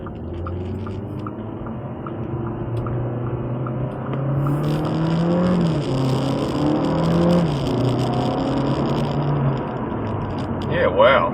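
A 2023 Audi A3 sedan 35 TFSI with the 1.5 engine accelerates hard: steady engine drone rising through gear changes, heard from inside the cabin, with a short burst of sound near the end.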